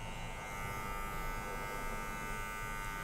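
Electric clippers drone close by as they trim a beard, a constant buzzing with slight texture changes as hair comes off and no speech.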